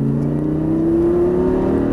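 A car engine drones steadily at close range on a race circuit, its pitch rising gradually as it accelerates, with no voices.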